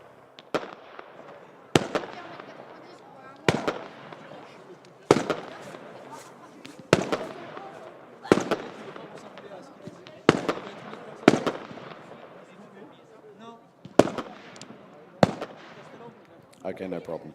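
Daytime fireworks go off near turn 6 at a kart race track, with a dozen sharp, loud bangs spaced about a second or two apart, each trailing off, and people talking in the background.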